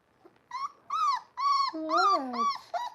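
A puppy whimpers and whines in a series of short, high, wavering cries with brief gaps between them, heard close up.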